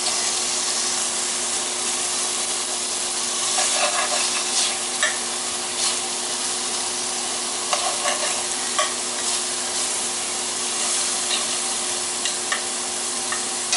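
Steak and chicken strips for fajitas fry with a constant bright sizzle and hiss, broken by crackling pops and stirring scrapes that come in small clusters.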